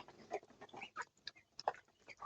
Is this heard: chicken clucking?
yes